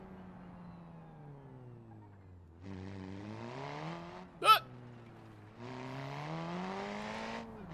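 A race car without an exhaust in the BeamNG video game drones at a low, steady engine pitch that swells and eases, quiet in the background, with one brief exclamation from a man.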